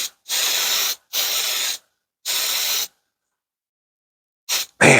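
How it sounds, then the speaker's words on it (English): Spray paint hisses onto the inside of a Walthers Cornerstone State Line Farm Supply model building in three even bursts of about a second each, loud and close, then a short fourth burst and the start of a fifth after a pause. "I'm gonna give the inside a little spray"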